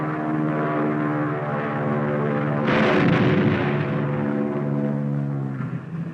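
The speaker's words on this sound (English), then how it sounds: "the pilot shoots his bombs into the target and takes evasive action" A bomb dropped from an aircraft explodes on a practice target, a sudden loud burst at mid-clip that rises over a steady droning aircraft engine and then fades back into the drone.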